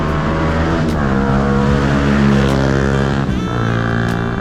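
Toyota Celica engine humming steadily from inside the car while driving, a close, continuous drone with slight pitch shifts as the car changes speed, with no talking.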